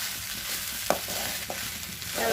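A spatula scrapes and stirs red poha with vegetables in a hot pan, with a soft underlying sizzle, a couple of sharp utensil knocks, and a louder scrape toward the end.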